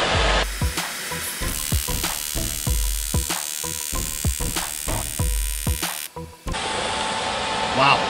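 AC TIG welding arc from an ESAB Rebel EMP 205ic running at 25 hertz on a warming metal plate, giving a steady buzzing hum with a regular ratcheting pulse that runs for most of the clip and then cuts out near the end.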